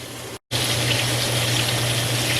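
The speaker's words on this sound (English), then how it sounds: "the water is boiling for the noodles" Steady rushing, bubbling noise of a pot of water boiling for noodles fills the clip, broken by a brief dropout near the start, with a low hum underneath throughout.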